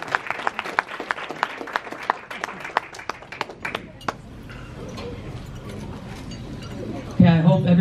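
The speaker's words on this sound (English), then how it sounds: "A round of applause for Neil." Guests at a 50th wedding anniversary party clap in a lively burst of applause that thins into scattered claps, then gives way to room chatter and a louder swell at the end.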